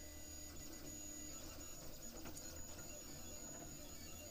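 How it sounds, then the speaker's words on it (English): A Craftbot 3D printer starting a print gives off a faint, steady mechanical whir and hum that runs unbroken, with no one talking. "Right away it gets going. Starts printing."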